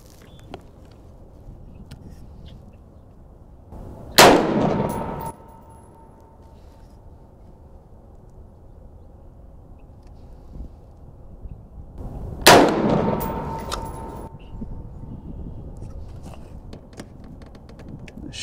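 Two sharp AR-15 gunshots ring out against a steel target, each a loud crack with a brief metallic ring, spaced about eight seconds apart over faint outdoor background.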